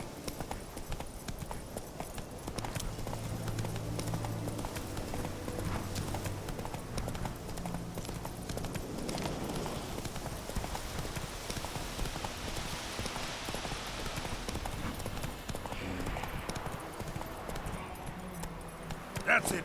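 Steady hoofbeats from Roach the horse in The Witcher 3 run throughout under game music, with a brief neigh in the mix.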